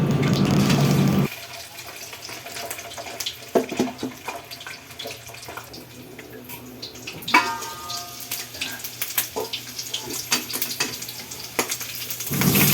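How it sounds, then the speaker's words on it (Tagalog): Pork meat frying in oil for tokwa't baboy, a loud steady sizzle with crackling pops and occasional stirring clatter, continuous throughout after a brief louder burst at the start. "ipiprito na natin yung karne"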